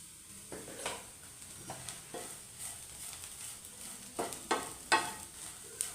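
A spoon stirs ginger curry frying in coconut oil, soft scraping and clinking over a faint sizzle, with a few louder stirs near the end.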